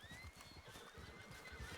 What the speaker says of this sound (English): Oh, is that a black horse?